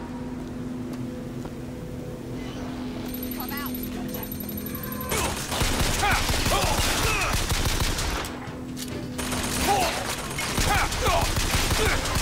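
A machine gun fires in the video game Bioshock Infinite, dense bursts of rapid fire that grow louder partway through, with a voice speaking over them and other game sounds mixed in.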